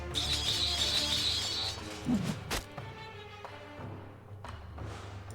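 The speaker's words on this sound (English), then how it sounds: "Why do my units make that shrieking bird noise?" Units in the Deity Empires fantasy strategy game let out a shrill, shrieking bird cry for a second or two, followed by a thud and scattered softer game sounds.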